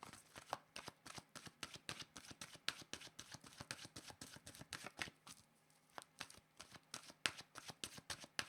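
Oracle cards shuffled by hand before one is drawn: a quick run of crisp, rhythmic riffles and slaps, close and fairly quiet, pausing briefly before resuming.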